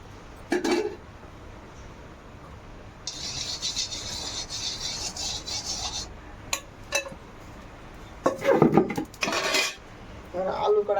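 A metal kadai is set down and scraped with a utensil before frying potatoes, with clanks, a sustained metallic rasping scrape, and a burst of clattering near the end.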